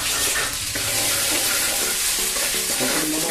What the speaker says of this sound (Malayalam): അതിനകത്തോട്ട് ഇഞ്ചി വെളുത്തുള്ളി പേസ്റ്റാണ് കുറച്ച് തരുന്നത്